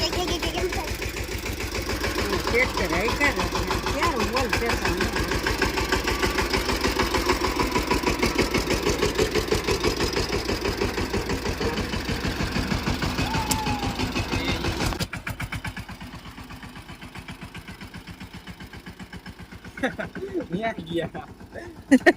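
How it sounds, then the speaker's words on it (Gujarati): A farm tractor engine runs at a steady rapid idle on a rural farmstead, close and continuous for most of the stretch before dropping away, while people talk over it. "આ પરવાને ટ્રેક્ટરમાં બેસવું હતું તો ચાલુ કરી દીધું"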